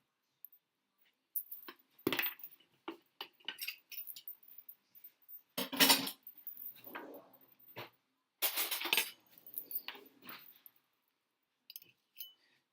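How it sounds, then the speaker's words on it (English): Spoonfuls of white and brown sugar added to melted butter in a dish, with scattered clinks and taps of a spoon against the container, some louder scraping bursts, close and intermittent. "Here goes the tablespoon of white sugar. And we have a tablespoon of brown sugar."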